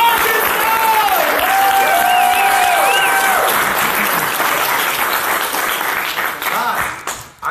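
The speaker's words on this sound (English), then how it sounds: "All right, let's clap it up!" Audience applause and cheering at a college Republicans event at a university in Miami, a loud continuous roar of clapping with whoops and music tones over it, tapering off near the end.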